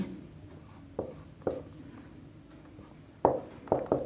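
A teacher writes on a board during a Class 10 arithmetic progression lesson, with a run of sharp taps and strokes, some spaced and some in quick pairs, heard close over a low room hum and no speech.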